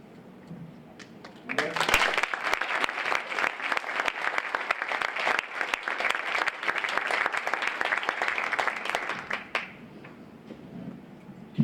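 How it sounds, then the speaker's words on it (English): An audience breaks into sustained applause at the end of a presentation, a dense wash of clapping that starts abruptly, holds steady for several seconds and then drops off, with faint voices before and after. "Let's give him another round of applause."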